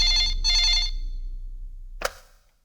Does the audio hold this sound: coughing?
no